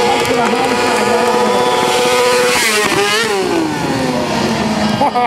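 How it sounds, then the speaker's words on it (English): Freestyle stunt motorcycle screaming near 10,000 RPM, bouncing repeatedly off the rev limiter with the rear wheel spinning, loud and close, the pitch wavering as the throttle is worked, with talk underneath. "he can bounce that thing off rev limiter all day long"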